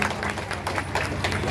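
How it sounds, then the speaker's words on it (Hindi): Applause from an audience at a religious gathering at a Bahraich temple, a short stretch of steady, moderately loud clapping over a low droning hum. "तालियां बजा दीजिए आप सभी लोग।"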